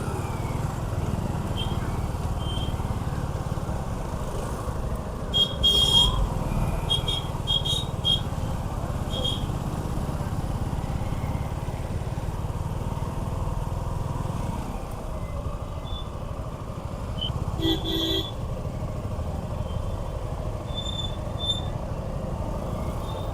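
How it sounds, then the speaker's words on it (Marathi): Steady road traffic on the way to the Shri Ballaleshwar temple at Pali, with a continuous rumble of passing vehicles. A few brief high beeps or horn-like squeaks cut through around the middle. "ट्रॅफिक तर आहे मित्रांनो, याचा अर्थ गर्दी तर असणारच"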